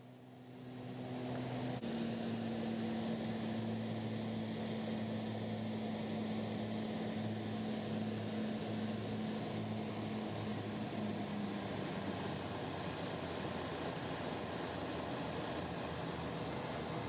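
Twin engines of a Piper Seneca V on a mountain approach, a steady, loud droning hum with a constant tone that runs unbroken for the whole stretch and no voices.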